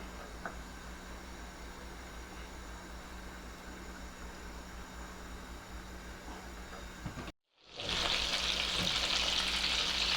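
Butter and oil heat together in a pan for pav bhaji, giving a soft, even background sizzle that cuts out abruptly near the end before a brighter, louder hiss takes over.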